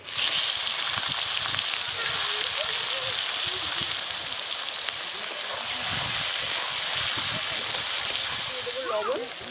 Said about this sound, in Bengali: আর বড় এলাচ আর দারচিনি এবার দিয়ে দেবো কুচানো পেঁয়াজ